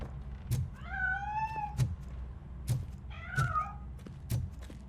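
A cat meows in the video game RoboCop Rogue City, two drawn-out wavering meows at moderate distance, mixed with a few dull thunks.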